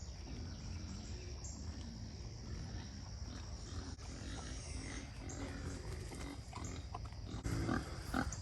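A pig grunts in repeated low, rough snorts close by, against a steady noisy farmyard background, with no talking.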